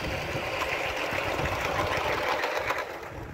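An Aster Models LMS Improved President Class live-steam model locomotive runs with matching coaches at an outdoor summer steam event, giving a steady, busy mechanical chuffing rumble with a fast rhythmic beat that holds throughout without pause.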